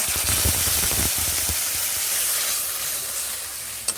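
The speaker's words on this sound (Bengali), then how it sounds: "এইভাবে মশলাটিকে নেড়ে নিচ্ছি" Spices with five-spice seeds stirred in hot oil in a pan for pumpkin curry, producing a loud, close frying hiss with scraping strokes near the start that fade into steady sizzling.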